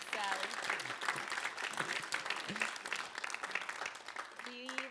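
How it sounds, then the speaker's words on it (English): Applause from an audience at a council-style community meeting, steady clapping across the whole stretch with voices and some pitched tones mixed in over it. "Round of applause for Mr."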